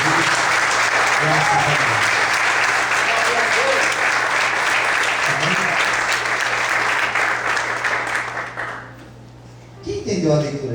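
Loud, sustained applause from a church congregation during a sermon on Proverbs, dense clapping that continues for most of the time before fading, with a voice speaking briefly at the end.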